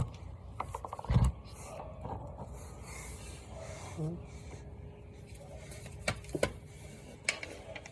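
A ratchet works loose a 17mm bolt on the rear trailer arm pivot of a 2002-06 Nissan Sentra, giving scattered metallic clicks and knocks up close, with a low voice in the background.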